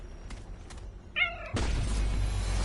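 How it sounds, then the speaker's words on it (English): A cat gives one clear, mid-length meow over a steady low hum. It is followed at once by a loud, continuous rumbling roar that fills the rest of the clip. "That's a cat. Makes noises."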